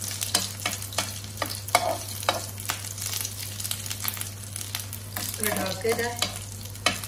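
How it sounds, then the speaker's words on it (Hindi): Rice kebabs fry in about two tablespoons of oil in a pan, giving a steady close sizzle broken by repeated scraping and stirring clicks from a spoon. "अब मैं बिल्कुल तो ऑयल में थोड़े से बनाती हूँ, देखते हैं वो कैसे रेडी होते हैं।"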